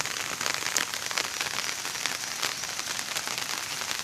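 Stormy monsoon rain falls in Konkan as a dense, steady roar of drops striking surfaces, loud and unbroken, with no voices.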